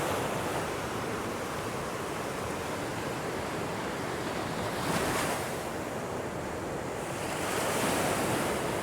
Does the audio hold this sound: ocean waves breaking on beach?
yes